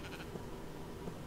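A Minecraft sheep bleats twice, short wavering cries against a constant low game hum, moderately close and alone without talk.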